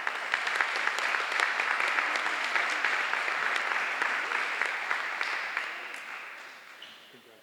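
A middle school audience applauds an eighth-grade award recipient at a recognition ceremony, a steady wash of many hands clapping that holds for several seconds before slowly tapering off.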